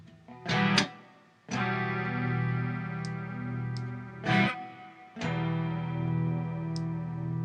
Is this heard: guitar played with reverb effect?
yes